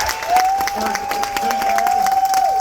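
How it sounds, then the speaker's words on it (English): An audience aboard the cruise ship Carnival Liberty claps for the U.S. Coast Guard at a military appreciation event, a loud burst of clapping with some cheering over a sustained steady tone. "So we're gonna clap for the Coast Guard."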